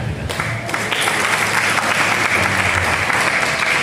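Audience applause at a talk on Islamic boarding schools, a dense steady clatter of many clapping hands filling the room without pause from start to finish.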